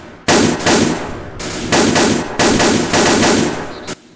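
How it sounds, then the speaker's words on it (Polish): Bursts of machine gun fire in the World War II shooter Iron Front: Liberation 1944, loud and close, coming in several rapid rattling volleys separated by short pauses. "MG."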